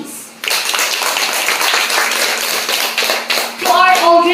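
A class audience at a school debate claps for a speaker, a brief scattered burst of hands from a small group, close and uneven, fading out as a tone sounds at the end.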